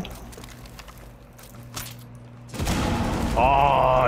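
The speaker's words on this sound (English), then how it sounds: "Oh, dude, that exploded." A loud burst erupts in a Rainbow Six Siege match, a sudden broadband blast that stays dense and sustained after a quieter stretch of low game hum and faint clicks.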